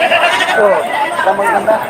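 Anglo-Nubian goats bleating close by at a goat farm, several wavering calls overlapping with a person talking.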